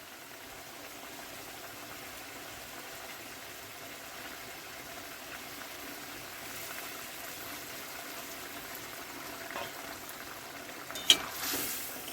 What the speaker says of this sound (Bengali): গ্রেভিটা ফুটে উঠেছে, এবারে দিয়ে দেবো ভেজে রাখা ডিম।